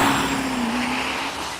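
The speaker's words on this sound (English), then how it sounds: "This is Neil Dredger out of Seminole, Texas, in that Duramax Chevrolet." A Duramax Chevrolet diesel truck runs at a diesel drag racing event, a loud continuous engine roar with a steady droning tone that eases slightly toward the end.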